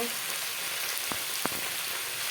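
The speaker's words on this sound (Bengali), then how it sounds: "আলুগুলোকে লাল করে ভেজে নেব" Potatoes fry in hot oil until browned, giving a continuous close sizzle with two brief soft knocks from the pan, and no voices.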